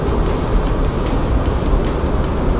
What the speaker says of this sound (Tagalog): Mahaba to mga sir yung tunnel.